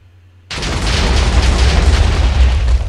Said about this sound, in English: It doesn't make much of an explosion, but god damn if it isn't terrifying.